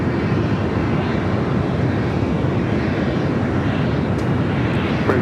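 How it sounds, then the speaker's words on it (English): A United Airlines Boeing 737-900ER takes off from the south side of LAX, its jet engines a loud, steady broadband roar that fills the whole stretch without letting up. "Next takeoff here in the south side, United Airlines flight 1572 heading to Denver"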